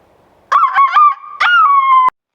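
A human voice imitates a chicken during storytelling, giving two loud, close, squawking bursts of clucking and crowing, with a short pause between them.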